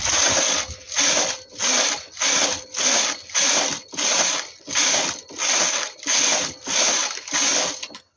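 A knitting machine knits rib rows at tension 6, its carriage swept back and forth in a steady rhythm, each pass a loud mechanical clatter with short pauses between, about a dozen in a row.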